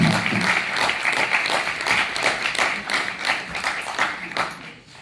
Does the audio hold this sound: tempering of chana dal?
no